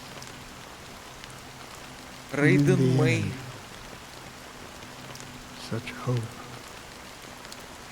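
Light drizzle patters in a video game, a soft, steady hiss of fine rain throughout, with a voice speaking briefly over it twice.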